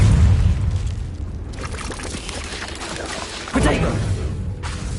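A Confringo fire spell explodes in the Hogwarts Legacy video game, a booming burst at the start and a second sharp blast a few seconds later over rumbling in-game background noise.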